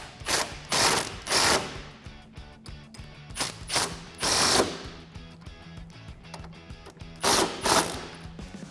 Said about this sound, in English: We can tighten those back up with that same T40 Torx.